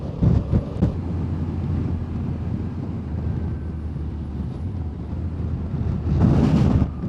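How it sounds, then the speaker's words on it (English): Strong wind buffets the microphone during a motorcycle ride in the Peak District, a steady loud rumbling roar throughout with heavier gusts near the start and end, no talking. "that wind's got up there."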